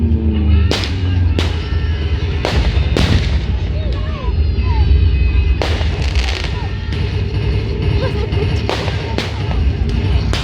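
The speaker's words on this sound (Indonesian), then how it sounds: "Ini guys, saling tembak menembak guys" Gunfire exchanged in a staged battle scene reenacting a fight against British troops in Surabaya, with loud, sharp shots and booming blasts cracking out irregularly over a constant roar of crowd and commotion, and voices shouting underneath.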